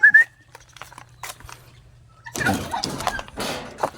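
A gamefowl gives a short, sharp cluck or call at the start during a night training session, followed by faint ticks, a hissing psst, and scattered rustling and handling noise near the end.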